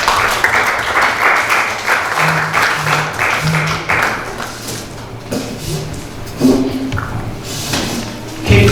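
Crowd applause at a forum talk show event, dense and fairly close, continuing for several seconds before thinning out, with a few scattered thumps and faint voices near the end.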